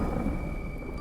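Thunder rumbles through pouring rain at night in a forest, a continuous low roll under a dense hiss of heavy rainfall, steady and fairly loud with no voices.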